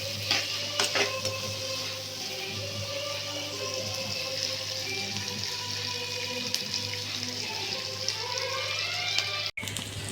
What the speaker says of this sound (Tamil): நல்லா பொன்னிறமாக வர அளவுக்கு வதக்கி எடுத்துக்கலாங்க